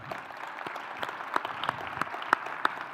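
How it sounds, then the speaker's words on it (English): Sparse applause from a small audience at an education summit panel, individual claps distinct, with a few sharper claps standing out at an uneven rhythm. "let's give another big round of applause for all of those school districts that were selected"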